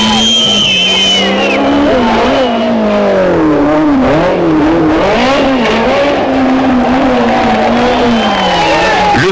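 A rally car skids through an uphill hairpin at the 1994 Tour de Corse, engine wailing and revving close by with tyre scrabble, while a crowd reacts and a commentator talks over it.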